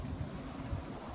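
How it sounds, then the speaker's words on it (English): Wind gusts outdoors in a hot desert climate, a low rumbling buffet across the microphone that rises and falls in soft pulses, steady and fairly quiet with no voices. "It's windy"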